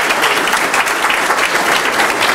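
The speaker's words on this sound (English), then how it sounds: "so let's give him a round of applause." An audience at an evening book talk gives a dense, loud round of applause, sustained and even throughout with no voices over it.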